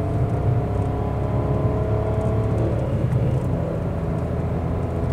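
A car cruising on a highway, a steady loud engine and road rumble with wind noise continuing unbroken throughout, heard from inside the vehicle.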